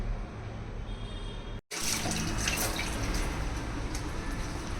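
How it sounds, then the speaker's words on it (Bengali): A fish washed under running water in a home kitchen sink: a steady, loud rush of flowing water with splashing, broken by one very brief silent gap partway through. "মাছটাকে ভালো করে ধুয়ে নিলাম"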